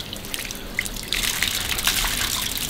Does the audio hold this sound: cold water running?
yes